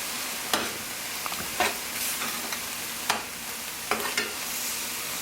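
An oyster mushroom mixture sautéing in butter in a pan: a constant gentle sizzle broken by about four distinct spoon stirs and scrapes at irregular intervals, heard up close.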